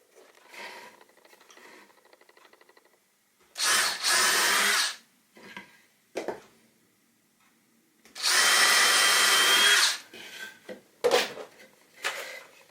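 A power drill drives long screws into wood while building diamond-shaped bird boxes, two sustained loud whirring bursts separated by quieter handling and clatter.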